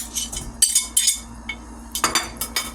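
Knife chopping vegetables for pasta salad on a cutting board, a quick run of sharp close taps in uneven bursts, clear and alone.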